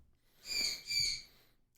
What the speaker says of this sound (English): that's a frustrated bird. He makes those sounds when he's frustrated.